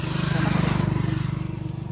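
A motorbike passes close by on a road, its engine giving a low, rapidly pulsing throb that is loud at first and then eases slightly over two seconds.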